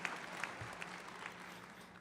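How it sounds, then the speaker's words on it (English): Steady applause from a commencement ceremony crowd, a dense wash of clapping at moderate volume with a few sharper claps near the start, continuing evenly throughout. "Let's give her another big round of applause."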